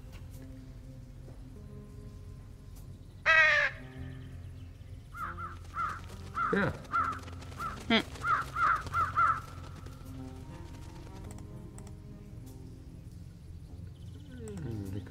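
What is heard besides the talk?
birds (crows) cawing after whistle call, video game Truberbrook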